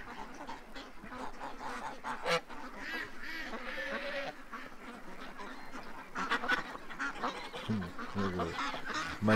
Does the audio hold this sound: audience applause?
no